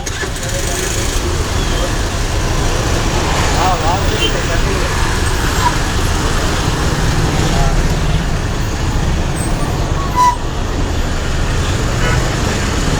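Slow-moving traffic on a Vijayawada road: a constant roar of cars, buses and trucks with occasional horn toots, loud and close throughout, with voices talking over it.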